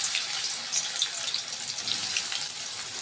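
Bitter gourd pieces fry in hot oil with a continuous bright, hissing sizzle and scattered crackles, steady and close throughout.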